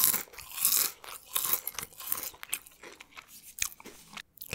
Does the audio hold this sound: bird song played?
no